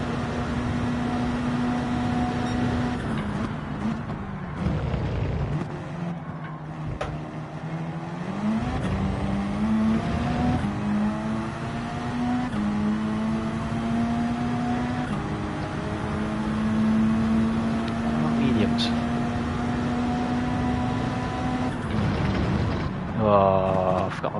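A race car engine held at full throttle through a curve in Gran Turismo 7, a sustained loud engine whine that climbs and shifts pitch over a long stretch while a voice talks over it.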